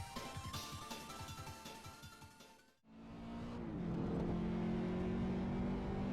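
Racing cars in Assetto Corsa run qualifying laps at Vallelunga in a classic sprint: a loud, revving engine roars with shifting pitch, cuts out briefly, then returns as a steady, sustained drone.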